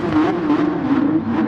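A 1983 Porsche 956 race car roars steadily at the Nurburgring in a racing video game, its engine holding a loud, sustained high-revving drone with slight pitch wavering throughout and no talk.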